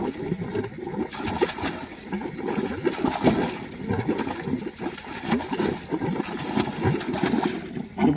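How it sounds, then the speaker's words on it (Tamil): Water pumped by an air compressor pours steadily into a well on a coconut farm, a continuous splashing gush with turbulent surges, close and fairly loud, mixed with a low mechanical rumble. "கம்பரசர் தண்ணி வந்து ஊற்றுது,"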